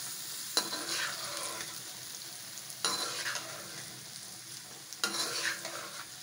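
Tinda gourds fry in hot ghee with a continuous close sizzle, and three sharp clinks and scrapes of a spoon stirring the pan break into it at intervals. No voices are heard.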